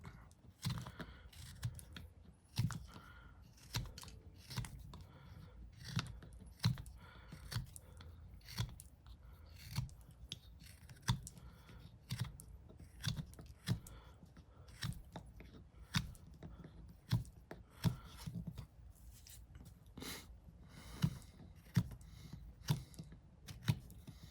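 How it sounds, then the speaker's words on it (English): A carving knife makes repeated pull cuts on a small wooden lure body, a steady run of close, crisp scraping slices with brief pauses between strokes and no talking. "If you use a carving knife, you can do this pull cut."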